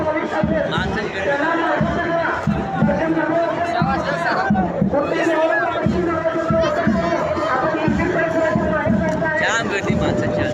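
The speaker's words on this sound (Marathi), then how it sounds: "जाम गर्दी माणसाच्या" Dense crowd babble at the Chaitra Purnima Jyotiba temple fair in Kolhapur, a loud, continuous hubbub of many voices close by, with individual voices standing out.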